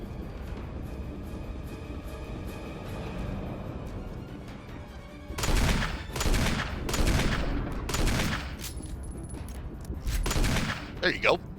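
Gunfire in the video game Resident Evil: a quiet stretch of background noise gives way to a string of sharp, fairly loud shots in irregular bursts.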